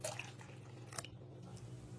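Water being poured into a bowl of lumpia wrapper batter made with beaten eggs and evaporated milk, a soft liquid splashing and dripping close by with a brief splash near the start, heard alone.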